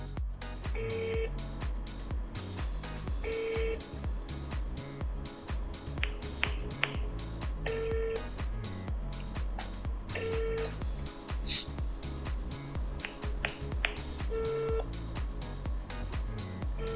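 Telephone tones beep in short, evenly spaced bursts while calling an iBox phone store in Jogja, repeating steadily under continuous background music.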